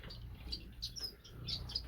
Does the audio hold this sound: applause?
no